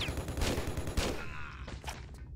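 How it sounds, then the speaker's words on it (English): Gunfire in the Tomb Raider level Jerusalem Must Be Free, as a bad guy is shot dead: a pair of loud, sharp shots about half a second apart, followed by quieter game ambience. "Two shots and he's dead."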